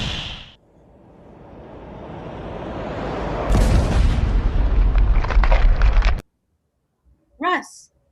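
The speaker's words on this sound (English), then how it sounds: "A meteor. It must have landed out there in the field." A meteor crash staged as a radio drama sound effect: a rising rumble swells into a loud, sustained roaring boom that cuts off abruptly, followed by a brief short cry. No speech over the effect.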